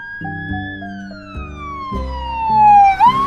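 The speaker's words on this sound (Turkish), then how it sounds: "Ambulansların sesi işte böyledir." A loud, close ambulance siren wails in a sweeping tone that slides downward and then jumps back up, over a low engine rumble.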